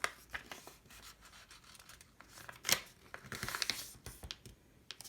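Paper being folded into an airplane gives soft crinkles, scrapes and sharp creasing taps, close and quiet, irregular and with no voice.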